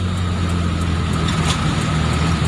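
A motorcycle passes through street traffic, its engine a steady low drone blended with the continuous roar of the roadway.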